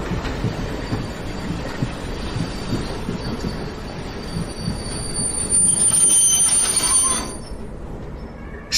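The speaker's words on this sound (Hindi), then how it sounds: "तुम्हें यहीं पर ट्रेन रोकनी पड़ेगी।" A train braking to a stop on a foggy night, wheels squealing loudly and steadily over low rumbling rail noise, growing louder toward the end.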